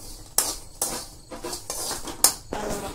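Peanuts tipped into a hot clay fish pan, a few sharp clattering rattles and scraping stirs against the pan, spaced out over a quiet background.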